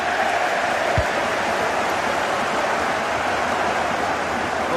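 Stadium crowd roaring during a video game football match, a dense, steady wash of noise sustained throughout with no voices.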